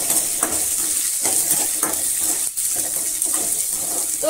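Shallots and tamarind sauté in a pan for a spicy radish chutney, giving a steady close sizzle with scattered scraping stir strokes throughout, no voices.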